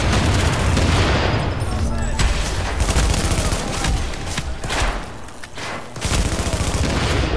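Rapid video-game gunfire crackles in dense bursts and booms through the whole stretch, loud and close, with a few louder shots standing out and players' voices talking over the shooting.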